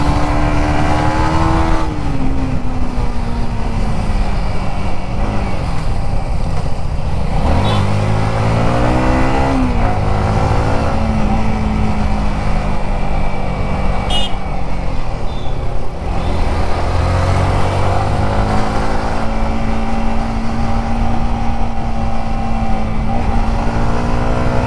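A modified Yamaha MT15 motorcycle revs up and down while riding, its engine note rising and falling steadily and loudly for the whole stretch, with no talking.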